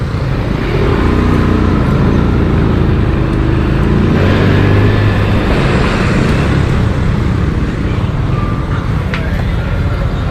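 A motorized tricycle engine rumbles steadily and loudly at close range, with continuous road noise throughout.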